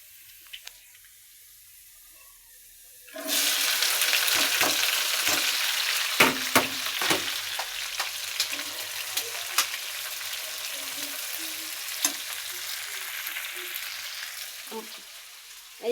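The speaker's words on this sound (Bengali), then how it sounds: "এই যে ঢেঁড়স এখন আমি তেলত দিয়ে দেবো" Okra hits hot oil with onion and chili, bursting into a loud, continuous sizzle after a quiet start, with scattered clinks and scrapes of stirring against the pan.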